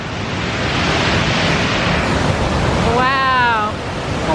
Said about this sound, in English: we're climbing through the back of the woods to see if we can find a good spot to show you the waterfall